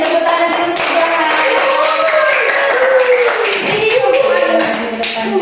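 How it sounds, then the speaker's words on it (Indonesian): Primary school pupils clap for a classmate in a classroom, a steady patter of many small hands tapping together at close range, with voices and a teacher's speech audible over it. "Kasih tepuk tangan dulu untuk Johan"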